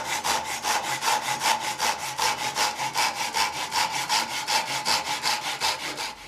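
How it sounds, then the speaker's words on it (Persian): A fine-toothed hand saw crosscuts wood across the grain in a steady, rapid back-and-forth rhythm of about four strokes per second. The rasping is close and loud, with no voices. "یک برش هم که دندونه های ریز هست برای برش عمود بر بافت چوبه که اصطلاحاً کراس کات"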